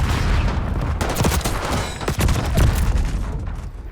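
Gunfire in a Call of Duty match, including shotgun blasts: loud, dense bursts of shots and booms in quick succession, close and heavy throughout the few seconds.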